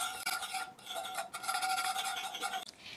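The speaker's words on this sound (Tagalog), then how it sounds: "kailangan talaga ay gumamit tayo dito ng whisk" A whisk scrapes and rasps steadily through melting butter in a pan while a quick dessert is made, a continuous close stirring sound with brief pauses.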